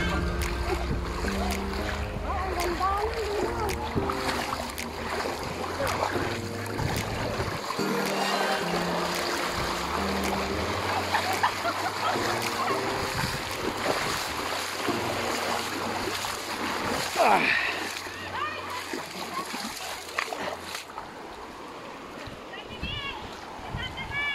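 Steady rushing and splashing river water while crossing it, close and continuous, with people talking over it throughout.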